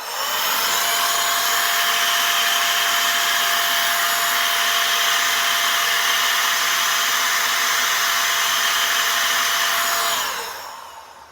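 A cordless electric air duster runs at maximum power, giving a loud, steady, high-pitched whooshing whine close by for about ten seconds before switching off and spinning down.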